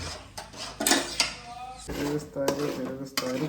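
Eggs being stirred in a pan (bānali) for egg bhurji, a spoon clattering and scraping against the metal in quick irregular knocks, close and fairly loud, with a voice speaking over part of it.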